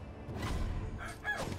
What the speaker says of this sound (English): These roosters are like the dogs of the Dark Souls and the Bloodborne.